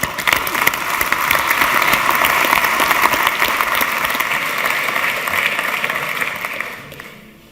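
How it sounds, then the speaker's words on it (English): Sustained, loud applause from a large audience at an opening ceremony, a dense continuous wash of clapping that holds steady for several seconds before tapering off at the end. "Let's give a big welcome to Georg Koffler with a warm round of applause."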